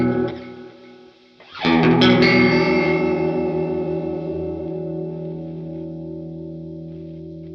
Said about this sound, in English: So you can hear as I wind it in, that's the rate, the delay of the chorus.